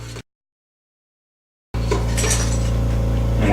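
A spoon stirs fudge candy in a pot, giving repeated metallic scrapes and light clinks against the pan over a steady low hum, with a silent gap near the start.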